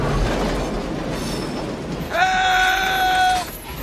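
A train sound effect plays over a movie scene: rumbling rail noise gives way to a loud, sustained horn blast lasting over a second before fading.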